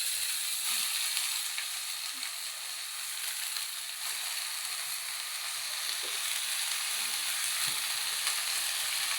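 Leaf thoran stir-fries in a pan, giving a loud, continuous sizzle with occasional soft scrapes and taps of stirring, no talk.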